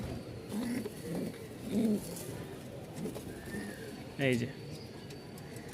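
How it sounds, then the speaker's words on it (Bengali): Fancy pigeons kept for sale coo in low, soft bursts, several calls spaced across the moment at close range, with a short spoken phrase mixed in among them. "এখন কবুতরটা অনেকটাই সুস্থ হয়ে গেছে"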